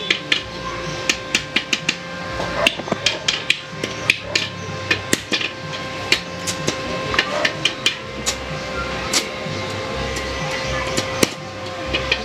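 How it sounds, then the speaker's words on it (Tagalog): A freshly repaired Kawasaki welding machine, set around 130 to 135 amps, test welding: rapid, irregular sharp crackles and pops over a steady electrical hum, loud and close, continuing throughout. "test natin kung may power siya o nagkaroon na siya ng welding"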